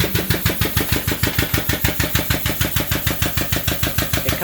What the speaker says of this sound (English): I'm going to try to pump this back up with the air that's remaining in my tank